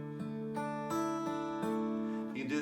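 Guitar picking a D ninth arpeggio with the open first string ringing, from a Silent Night arpeggiation pattern: about six clear plucked notes at an even pace, each sustaining into the next, quiet and solo.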